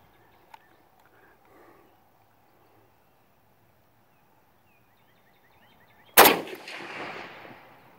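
Old East German training ammunition fires a single sharp gunshot at a steel groundhog target outdoors, preceded by quiet ambience and a faint click, with a ringing, fading echo after the shot.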